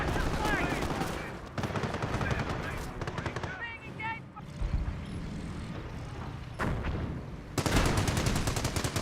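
Machine-gun bursts and rifle fire crackle almost without a break in the WWII strategy game Company of Heroes, loud and dense, with a few short lulls and a voice calling out over the shooting.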